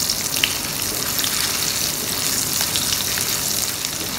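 Dried red chillies and green chillies frying in hot oil for a North Indian thali, a steady close crackling sizzle with tiny pops throughout and no talking.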